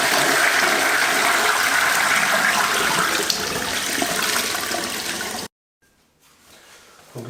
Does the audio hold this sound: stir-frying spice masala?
no